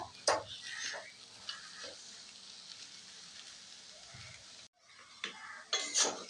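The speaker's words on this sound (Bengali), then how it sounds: "ওলকচুটা পুরোপুরি ভাজা হয়ে গেছে" Pieces of elephant foot yam fry in a pan with a soft continuous sizzle, punctuated by several scraping and clinking stirs of a spatula, with a brief pause before louder stirring resumes.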